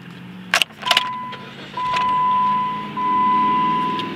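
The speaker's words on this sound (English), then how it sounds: "Let me jump in and crank it up for you." A 2014 Jeep Patriot Latitude at a car dealership: a few sharp clicks and knocks, then a steady electronic chime and the engine catching into a close, even idle hum.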